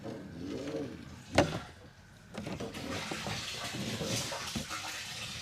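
Water from a pump runs through a hose, a steady rushing and splashing flow that follows a short sharp knock and grows fuller partway through.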